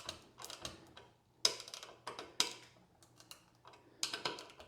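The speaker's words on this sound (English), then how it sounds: "The mechanism inside the ratchet" A ratchet wrench mechanism clicks in irregular bursts of sharp ticks while a bolt is driven into wood, close and fairly quiet, with short pauses between strokes.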